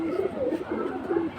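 Pigeons coo softly in repeated, low, rolling calls at a pigeon market where young high-flying birds are sold. The calls are close and moderately quiet, with faint market murmur behind them.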